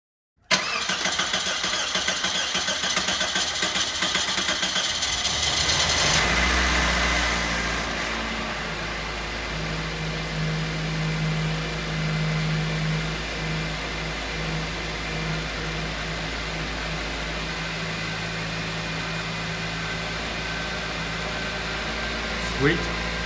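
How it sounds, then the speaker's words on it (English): A Toyota Matrix engine, freshly rebuilt, cranks briefly and catches, then revs and settles into a steady low idle that carries on for many seconds, close up and fairly loud, with a faint brief sound near the end. "hop in the vehicle, prime the fuel pump a couple times, and then just turn this thing over"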